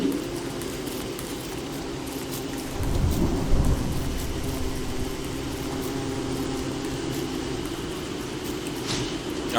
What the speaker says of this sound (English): And it's begun to rain.